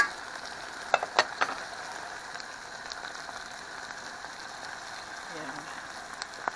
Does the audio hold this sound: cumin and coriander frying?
yes